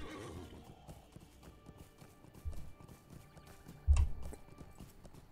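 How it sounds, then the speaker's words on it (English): A horse in the online game LOTRO, with faint hoof clip-clops and two soft low thumps against quiet game ambience, with no speech. "Get on the horse."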